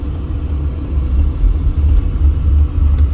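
A car engine and tire roar rumble steadily from inside a vehicle driving through Las Vegas streets away from the Strip, a loud, constant low drone with faint ticking clicks.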